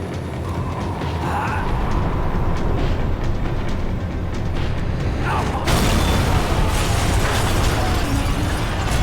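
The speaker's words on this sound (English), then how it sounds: "The tram was slowing down" Tram in Max Payne 3 slowing down, a heavy rumbling mechanical roar with creaks and metallic clanks, loud and continuous, with a sharp jolt partway through.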